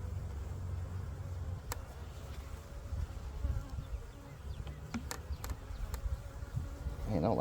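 Honey bees from a newly installed package swarm around the hive, a dense, steady buzzing close by with individual bees droning past, alone without talk.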